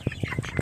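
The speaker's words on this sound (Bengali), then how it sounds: "দুষ্টু মুরগি বোঝেন, দেশি মুরগ।" A local desi chicken clucks in short, repeated bursts, four or five close, fairly loud calls at an uneven rhythm with no talking over them.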